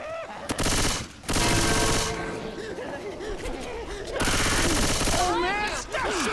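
Rapid automatic gunfire bursts from Left 4 Dead 2 gameplay, loud and near, broken by short gaps, with game sounds and voices shouting over the shooting.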